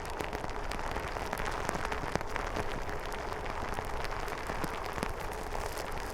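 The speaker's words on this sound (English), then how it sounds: "This rain really is bad." Heavy rain pours down steadily outdoors, a dense, loud, unbroken hiss of drops striking surfaces, with occasional sharper splats, alone and without voices.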